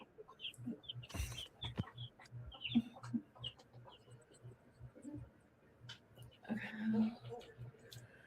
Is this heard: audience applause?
no